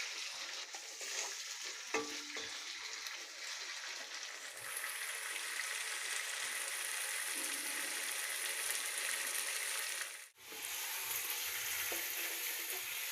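Chicken meat cooking in spices in a pan, a loud, continuous sizzle with stirring scrapes that briefly drops away near the end before resuming.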